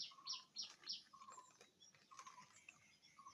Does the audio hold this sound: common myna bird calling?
yes